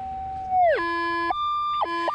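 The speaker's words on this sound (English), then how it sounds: "we're right out of ground balance, and although it will ground balance for us, it's very moany and very groany." Minelab GPX 5000 metal detector left out of ground balance, giving a loud, wavering electronic moan that slides downward and settles into a steady drone, with a second sliding moan near the end and no one talking.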